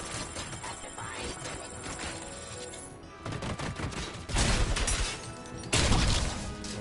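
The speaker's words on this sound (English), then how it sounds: "Trying to pick up this heavy machine gun here." Heavy machine gun fire in a PS5 action game, bursts of rapid, loud shots that grow heavier and closer toward the end, with crashing impacts mixed in.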